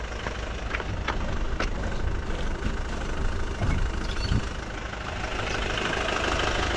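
A GWM Cannon ute fitted with a Nitrogen 2.5 inch suspension lift kit runs its engine on a test drive, a steady low mechanical drone with faint knocking and occasional clicks, close and continuous with no talk.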